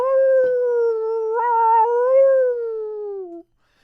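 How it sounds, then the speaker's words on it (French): A single long wolf howl, steady and mournful with a slight rise and fall, rings out clearly and alone as a story sound effect before cutting off abruptly. "Il entend le hurlement des loups."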